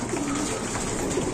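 Racing pigeons coo softly and steadily at close range in a loft, a low continuous murmur with no talking.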